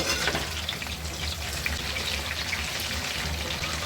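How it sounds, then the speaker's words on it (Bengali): Chicken roast pieces fry in hot, splattering oil, making a loud, close, continuous crackling sizzle with dense popping that runs steadily throughout, with no voices. "এখন আমি ভেজে নেব, তেলটা ছিটে পড়বে।"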